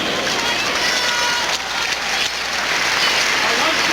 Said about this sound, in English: Nice round of applause from the fans.